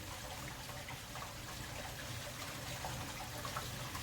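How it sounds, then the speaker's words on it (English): A washing machine drains water in the background with a steady faint rushing and trickling wash of sound, low and continuous throughout with no voices. "the washer's draining"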